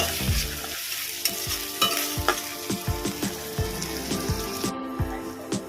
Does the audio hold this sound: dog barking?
no